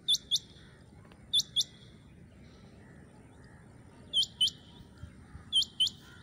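A male rain quail calls in repeated sharp, high paired notes, four double bursts spaced across the span, fairly distant over a faint outdoor background.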